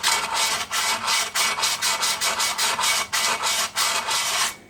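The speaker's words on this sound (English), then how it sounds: "get your sandpaper and go around the inside of the drum, just getting rid of all that rust" Sandpaper scrubs rust from the inside of a Honda ATC front brake drum in loud, steady back-and-forth strokes, a rhythmic rasping repeated about a dozen times at close range before stopping.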